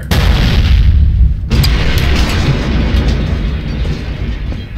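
Weapon loading and firing from the Neuron Tech addon in Garry's Mod: loud, sustained booming blasts with a sharp break near one and a half seconds, then continuous rumbling explosion noise that fades only slightly.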